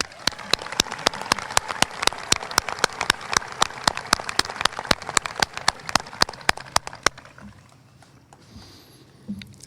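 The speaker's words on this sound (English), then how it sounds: "So let's give them a round of applause" Applause at a high school commencement ceremony, heard as sharp, regular claps standing out over a dense patter, fading out after about seven seconds into quiet room sound.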